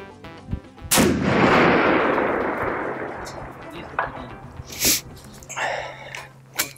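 A single loud rifle shot cracks close by during a chronograph velocity test, followed by a long decaying echo and a few smaller knocks and handling sounds at a shooting range.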